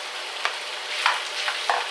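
Garlic and onions sizzle in a small pan alongside sausages on turned-down heat, a steady close frying hiss with a few soft stirring scrapes and pops.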